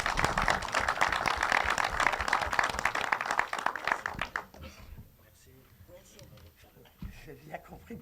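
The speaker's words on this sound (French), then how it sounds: "Et vous applaudissez aussi le comité de Sarlat" Audience applause for the Sarlat committee at a public gathering, a dense, loud wash of many hands clapping for about four seconds before fading out, followed by quieter room noise and scattered sounds.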